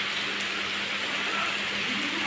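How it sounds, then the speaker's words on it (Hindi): Sudden heavy rain pours down steadily, a dense broadband hiss of drops on surfaces close by, with no voices over it. "एकदम से हुई, लग भी रहा था बारिश होगी कितनी तेज"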